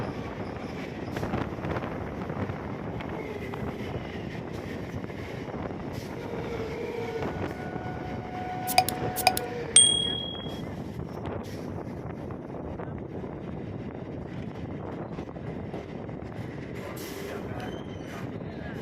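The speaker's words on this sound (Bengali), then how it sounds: "ডান দিকে down 3816 Bongaon Sealdah local cross করছে।" A Bangaon–Sealdah down local train crosses at Madhyamgram station, a steady rumbling rail roar with wind buffeting, and a brief sharp squeal or horn-like tone midway before the passing noise continues.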